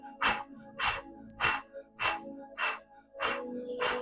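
Rhythmic forceful breaths during a yoga breathing exercise, seven sharp bursts spaced about every half second to second, close and clear with no talking.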